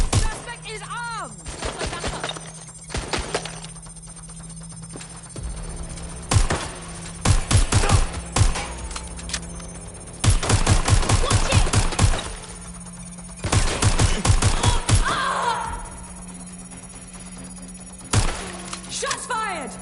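Bursts of rapid automatic gunfire and single shots in the video game Watch Dogs, loud and close, coming in clustered volleys with short gaps, mixed with game sound effects and speech.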